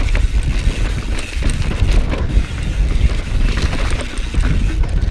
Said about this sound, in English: Here's the wind again. Very gusty today.